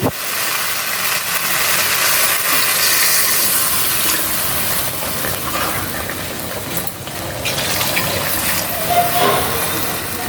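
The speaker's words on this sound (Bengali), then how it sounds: "তা এখন দিয়ে দিব পরিমাণ মতো জল" Water is poured into a pan of fish curry with potatoes, making a steady rushing, splashing pour that runs for about ten seconds without letting up.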